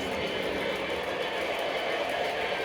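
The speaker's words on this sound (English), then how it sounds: "And check out all this nostalgic freight cars going by." Model train freight cars roll past on the main line of a home layout, a steady close rumble with faint clickety-clack running evenly throughout at moderate loudness, with no talking.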